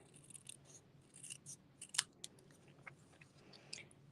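Scissors trim craft paper during card making, with a few quiet, close snips and crisp paper rustles scattered over a few seconds.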